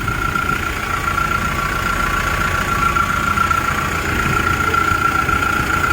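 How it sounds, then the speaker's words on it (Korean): A Kia Bongo 3 double cab truck engine idles steadily up close, a constant low rumble with a faint whine on top, unchanging and with no talking. "이렇게 상쾌한 엔진 소리 들어보셨습니까?"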